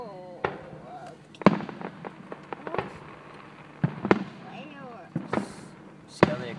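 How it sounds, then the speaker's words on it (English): Fireworks pop and bang in scattered sharp bursts at a moderate distance, with people talking and exclaiming between the explosions. "Fireworks. See how they explode in the sky?"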